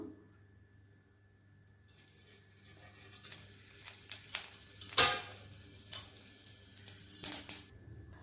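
Whole cardamom, cinnamon and ground cumin hit hot oil in a wok, giving a quiet start that builds into crackling sizzle with several sharper pops and bursts near the end.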